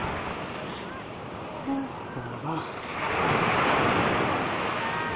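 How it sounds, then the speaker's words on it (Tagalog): Big September ocean waves at Talolora Beach in Palapag, Northern Samar, a steady roar of surf and wind that swells louder in the second half. "Talolora Beach and the big waves, the month of September."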